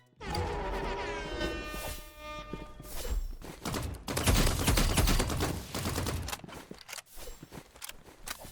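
Assault rifle fire in the shooter game Rivals, rapid close bursts crackling over several seconds with brief pauses between strings of shots, no talking.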